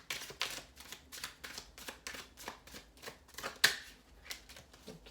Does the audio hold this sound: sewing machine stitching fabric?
no